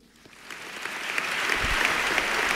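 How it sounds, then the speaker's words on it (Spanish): Audience applause for the proclaimer at the start of his Holy Week pregón literary piece, a dense crowd clapping that swells steadily from a soft start to a full, sustained ovation. "Primeros aplausos al pregonero en este arranque de su pieza literaria"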